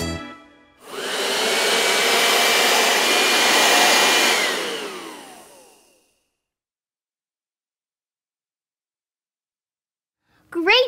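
A person imitates a vacuum cleaner with a loud, breathy whooshing hiss lasting several seconds, then fading to silence before a short burst of sound.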